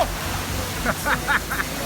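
A steady, broadband rush of falling water from a waterfall in December pours on close by, with a few brief voiced sounds over it.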